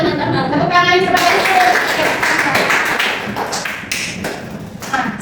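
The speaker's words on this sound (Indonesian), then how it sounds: "Tepuk tangan kepada" Students in a classroom micro-teaching maths lesson clap together, a brief burst of sharp, close hand claps and taps, with a teacher's voice speaking just before and a few voices mixed in.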